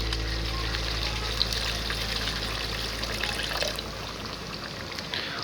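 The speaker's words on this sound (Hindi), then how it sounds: "यहाँ पे भी हम इसमें ऐड कर देंगे थोड़ा सा पानी शोरबे के लिए" Water poured into a pot of goat head broth being cooked, a steady trickling pour heard close up over a continuous low cooking rumble, lasting the whole stretch without talk.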